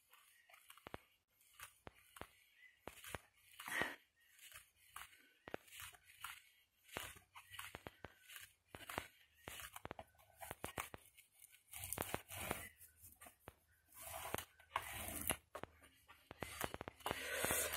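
Paper is creased into a fold for a photo album, giving faint, close rubbing and crinkling strokes in irregular bursts.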